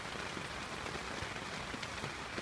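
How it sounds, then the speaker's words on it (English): Rain patters steadily on a hammock and the woods around it at a wet-weather camp, a dense close drumming of drops that stays even and fairly loud, with no voices. "I'm in my hammock now and just sitting here listening to the rain"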